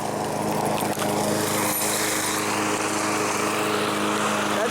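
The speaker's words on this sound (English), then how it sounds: "we're mowing the lawn, just this portion" A lawn mower cutting grass outside a house, its engine droning steadily and loudly throughout without pause.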